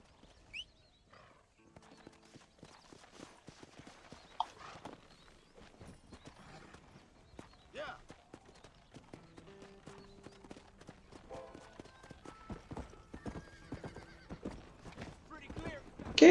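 In Red Dead Redemption on Nintendo Switch, a horse gives a few short, sharp whinnies and scattered hoof clops, faint and sparse against quiet game ambience with soft musical notes.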